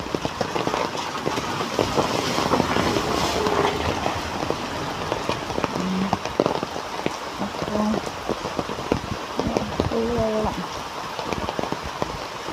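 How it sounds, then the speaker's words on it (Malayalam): Heavy rain falls, a dense close patter of drops drumming on a surface, loud and continuous, with a few faint tonal sounds and murmurs in the background. "നല്ല മഴയല്ലോ."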